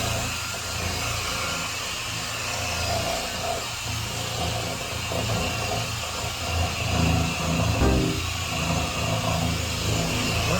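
A dual-action car polisher running on its lowest setting spreads Chemical Guys scratch and swirl remover over paint, a steady close mechanical whir with slight rises and dips in pitch throughout.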